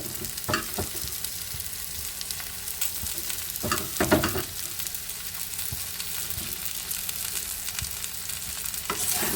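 Raw onion is stirred into a frying katla fish curry cooked without water, giving a continuous sizzle broken by scraping spatula strokes at irregular intervals, close and moderately loud.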